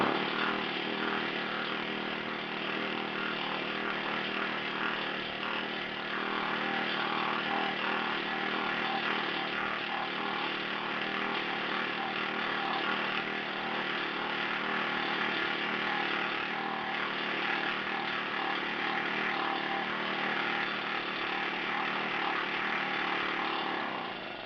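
A loud, steady mechanical roar with a rapid hammering buzz runs unbroken from start to finish, close and harsh, with no voices, from a Harbor Freight planishing hammer running.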